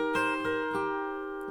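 A single guitar chord built on G rings out on acoustic guitar, struck once and sustaining clearly on its own with no talking.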